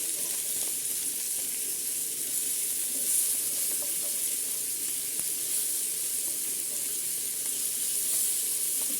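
Sardines fry in oil with fenugreek seeds, making a soft, even, hissing sizzle that holds steady from start to finish with no talking.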